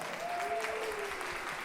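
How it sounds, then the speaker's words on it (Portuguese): Audience at a law lecture gives a round of applause, a soft even wash of clapping heard at some distance, with a faint tonal hum drifting underneath. "Gostaria de uma salva de palmas."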